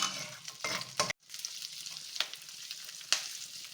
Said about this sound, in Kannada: ಹಸಿಮೆಣಸಿನ್ಕಾಯಿ ಒಂದು ಮೂರು ಹಾಕ್ಕೊಳ್ತಾ ಇದ್ದೀನಿ ಸ್ವಲ್ಪ ಕೆಂಬಣ್ಣ ಬರೋವರೆಗೂ ಫ್ರೈ ಮಾಡ್ಕೊಳ್ಳೋಣ